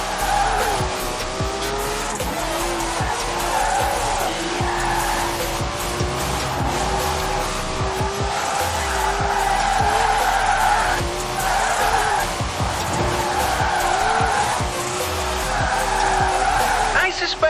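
A car drifts in Forza Horizon 4, tyres squealing and skidding continuously over a loud, revving engine, burning rubber with steady intensity throughout the drift run.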